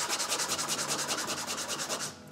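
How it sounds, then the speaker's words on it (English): A sanding block rubbing back and forth over the wooden framing of a model house, about fifteen even rasping strokes in a steady close rhythm, then a small tap at the end. "Now I'm going to take and kind of custom fit it using my sanding block"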